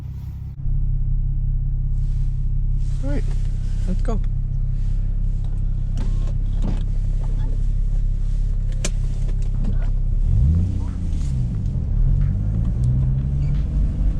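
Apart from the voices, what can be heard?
Infiniti G35 sedan modified exhaust while driving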